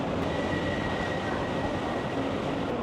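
Steady broadband rumble of a metro train at a station platform in Bangkok on the Red Line, continuous and fairly loud throughout, with a faint high whine running across it and no talk.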